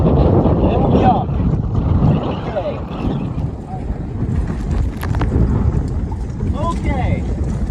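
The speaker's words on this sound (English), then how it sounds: "waiting for the gale to die down a little" Gale-force wind from Hurricane Ian near South Miami roars and buffets the microphone in a loud, continuous rumbling rush, with faint voices under the noise.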